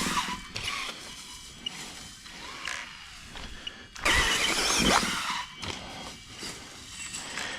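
Losi Promoto RC motorcycle heading for a ramp, its small electric motor whining and ratcheting in bursts with a louder surge midway, close and fairly quiet, no voices.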